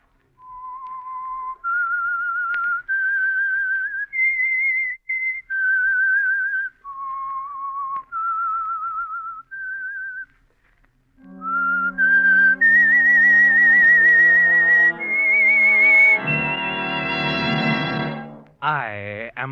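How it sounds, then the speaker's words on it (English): A lone whistler performs the eerie theme signal of The Whistler, an old-time Signal Oil radio mystery program, as a clear, close melody of held notes, before a brassy orchestral sting swells in underneath. "That whistle is your signal for the Signal Oil program"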